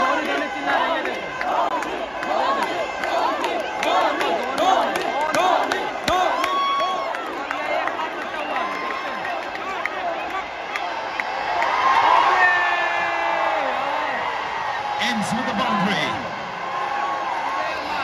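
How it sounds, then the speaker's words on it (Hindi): A packed crowd at Ekana Stadium in Lucknow during an LSG vs CSK IPL 2024 cricket match roars and chants Dhoni's name in rhythmic waves, a dense sustained wall of voices with rising surges of cheering. "सारे लोग खड़े और सारे लोग धोनी धोनी चिल्ला रहे हैं।"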